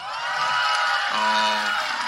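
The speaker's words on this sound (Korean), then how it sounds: "우리 탄대청 한번 박수 주십시오" Crowd cheering and applause for the Tandaecheong youth group at a talk concert in Sinchon, a dense, steady roar of many voices with a brief shout rising out of it midway.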